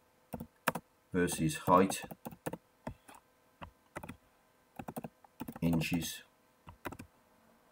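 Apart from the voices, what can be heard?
typing a chart title on a computer keyboard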